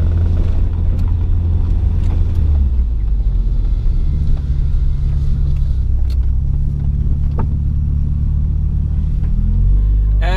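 A car engine idles and runs with a steady low rumble during a drive tuned on a standalone ECU with autotune. The drone is loud and continuous, with brief clicks and small shifts in load, and no one speaks.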